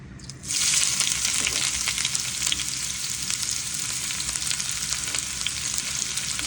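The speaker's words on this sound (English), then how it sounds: "Now I'm gonna put my onions in here." Onions drop into a hot frying pan and burst into a loud, steady hiss of frying that carries on strongly after a sudden start, with faint stirring scrapes underneath.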